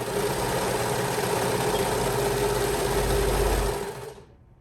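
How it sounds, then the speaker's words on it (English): A sewing machine stitches the shoulder seam of a bodycon T-shirt dress, running in a steady close whir that stops abruptly near the end. "And then I'm going to sew my other shoulder seam."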